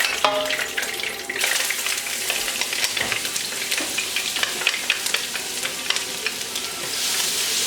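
Ginger and garlic fry in a pan over medium heat, a loud bright sizzle that swells after a second and holds steady with small crackles throughout, no talking.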